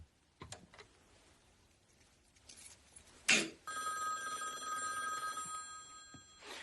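A telephone bell starts ringing after some quiet room noise and a sharp knock, its steady metallic trill carrying on unanswered.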